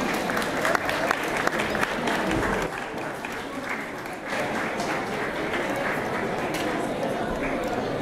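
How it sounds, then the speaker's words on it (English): Guests at a twins' birthday celebration clap for a guest, producing a dense, continuous wash of applause with mixed crowd noise throughout. "Let's clap for him."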